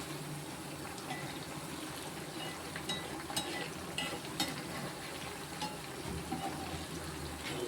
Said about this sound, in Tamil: இப்போ வந்து நம்ம லேசாக கிண்டி விடுவோம்.